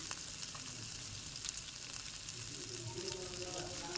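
Chili powder, turmeric and cumin powder frying in a vegetable stuffing for kakrol (teasel gourd) make a steady, soft sizzle that holds even and unbroken from start to finish, with no talk.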